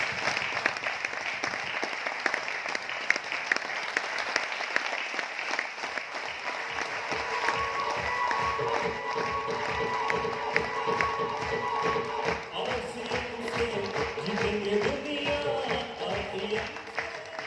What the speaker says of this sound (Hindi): एक बार सर के लिए जबरदस्त ताली होनी चाहिए।